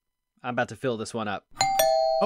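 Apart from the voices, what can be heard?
doorbell ringing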